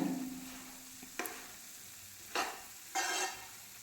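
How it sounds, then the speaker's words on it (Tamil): Rice flakes (aval pori) stirred together with chocolate in a pan, three short scraping bursts of spoon against pan over a faint low hum, close and fairly quiet, no voices. "இதில் எல்லாமே படுற மாதிரி கலந்து கொடுங்க."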